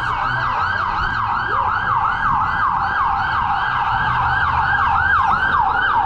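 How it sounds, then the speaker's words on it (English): A wailing emergency siren rises and falls repeatedly in a fast, steady cycle, loud and close over traffic rumble. "Sirens aplenty coming."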